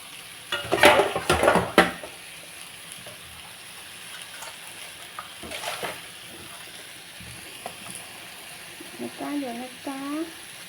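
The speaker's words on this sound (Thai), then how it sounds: "มันสุกช้า ใส่น้ำเข้าไปบ่มหน่อย" Water is poured into a hot pan of baby corn and vegetables, giving sharp bursts of sizzling and clattering stirring early on, then quieter simmering with a voice talking near the end.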